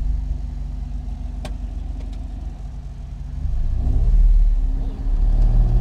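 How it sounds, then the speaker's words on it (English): A 1957 Lancia Aurelia with a 2.5-liter V6, cold after sitting out all morning, runs at a steady low rumble, then swells louder as it pulls away, with a brief sharp click early on. "Push button start, fires first try."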